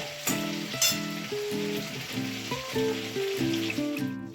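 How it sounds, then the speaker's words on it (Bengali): A batch of chilli chicken fries in a pan with a continuous crackling sizzle and occasional stirring, heard under background music. "আর এখানে আমার থার্ড ব্যাচ চিলি চিকেন ভাজা চলছে"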